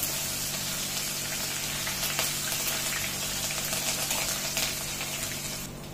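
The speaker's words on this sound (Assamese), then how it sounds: "এয়া মোৰ জলকীয়াকেইটাও ফ্ৰাই কৰা হৈ গ'ল" Green chillies frying in hot oil after cashews, a steady broad sizzle and bubbling that holds close and even throughout, with no talking.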